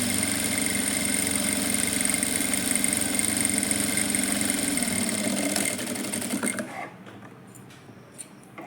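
A sewing machine stitches thread piping with a steady close mechanical whir for about six seconds, then slows and stops, leaving a few faint clicks and handling noises.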